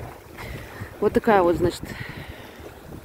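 Strong, cold wind blows on a shore in mid-March, a steady low rumble of gusts buffeting the microphone throughout while a person talks over it in the middle.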